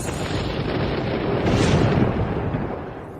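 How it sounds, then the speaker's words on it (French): A deep, broad rumble of thunder rolls continuously, swelling to a peak midway and then fading slightly, with no voices. "C'était le tonnerre?"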